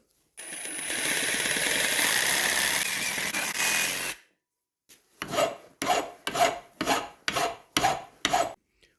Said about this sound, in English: I now have the section that I removed in the table vise. I'm going to make a cut right here.